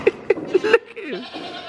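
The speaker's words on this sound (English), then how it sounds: "Look at all the little baby goats." Several little baby goats bleat in a quick run of short, close cries, followed by a longer wavering bleat mixed with a voice.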